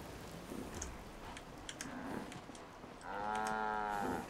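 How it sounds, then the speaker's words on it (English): A cow in the video game Fallout 4 lets out one clear, drawn-out moo near the end, loud and close, after a few seconds of quiet ambient noise with faint ticking. "I heard all my cows"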